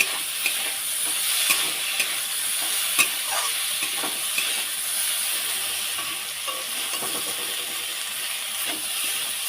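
Pointed gourd (potol) frying in a pan for a mashed bharta, with a steady broad sizzle and occasional scraping stir clicks, fairly close and continuous with no voices.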